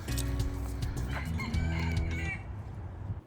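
Small wild fowl cluck and crow along a hiking trail, a rooster-like call standing out over a busy, close chatter of birds.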